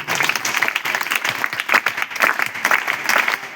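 An audience at a gathering honoring an elderly woman who drives an auto-rickshaw bursts into sustained, loud applause, dense clapping that surges in waves.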